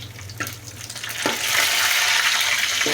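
Garlic cloves and broken dried red chillies frying in hot oil for a vegetable fry, with a steady bright sizzle that swells as pieces drop in, plus a few stirring clatters, close and alone.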